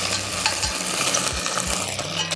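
Onion sizzles in turkey-flavoured oil in a pot: a dense, loud frying hiss with a few low stirring bumps, steady throughout and without voices.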